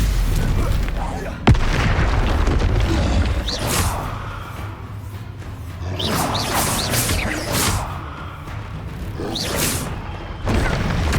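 Spell blasts and booming magical impacts from Hogwarts Legacy combat, dense and continuous with whooshes and bursts layered over loud battle noise, a voice talking over the action throughout.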